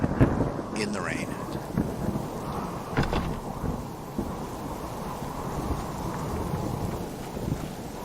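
Rain and thunder in the survival game Subsistence: a steady wash of falling rain with heavy thunder rumbles, a loud crack near the start and another around the middle, no talking.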